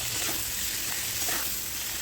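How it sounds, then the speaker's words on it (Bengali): Spice paste with turmeric sautés in a pan for a fish curry with potato and aubergine, a dense, even sizzle close up with no voices. "ভালো করে একটু কষিয়ে নিতে হবে হালকা।"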